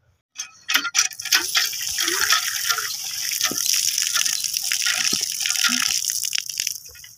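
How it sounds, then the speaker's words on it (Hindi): Water gushes from an outdoor hand pump tap after a few clanks of the handle, a close, loud, steady splashing flow. "प्यारा सा नलका खड़ा हुआ है, यहाँ से कुछ पीते हैं पानी"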